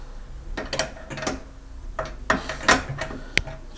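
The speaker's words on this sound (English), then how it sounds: "Lock the wheel." Castor wheel lock on a metal produce bin frame being engaged, a series of close mechanical clicks and clacks spaced irregularly, with plastic and metal rattles between them.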